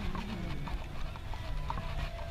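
Horses' hooves clip-clop at close range in a rodeo parade in Tucson, a quick steady beat under a dense crowd murmur and background bustle.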